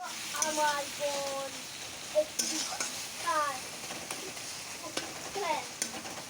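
Tomatoes with Kashmiri chilli powder, dry chilli powder and turmeric fry and are stirred in a pan, a soft steady sizzle broken by repeated scraping strokes and occasional clinks, with faint tonal sounds in the background.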